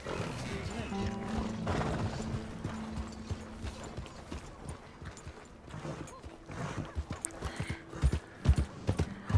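Horse hooves clip-clop in Red Dead Redemption 2 under a mechanical whirring and clanking like a passing train, with a voice talking over the rhythmic footfalls that grow sharper toward the end.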